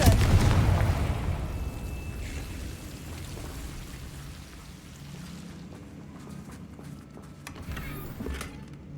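A Confringo blasting spell explodes in Hogwarts Legacy with a loud, boomy burst at the start, then fades into a low rumbling tail with scattered crackles.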